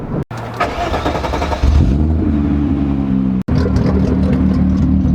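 A VR6 car engine in a 90s car revs up loudly and close by, rising into a strong sustained roar that drops out briefly before climbing again.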